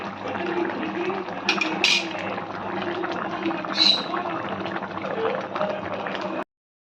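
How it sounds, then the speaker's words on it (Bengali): A pot of Bengali fish curry with green eggplant simmers on the stove, a soft steady bubbling and gurgling at close range with a few faint clinks. "আর মিনিট 2 ফুটিয়ে নিয়ে হয়ে যাবে আমাদের মাছের ঝোল।"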